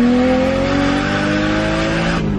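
A car with revised gearing and new coilovers pulls hard in a long second gear, the engine note climbing steadily and loudly up the rev range before a brief drop at the end, close to the microphone.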